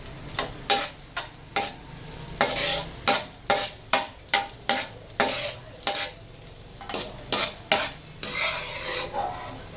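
Raisins frying in hot oil in a pan for Kashmiri peas pulao, a steady sizzle broken by a long run of sharp, rhythmic scraping strokes of a spoon against the pan, close and fairly loud, with no voices.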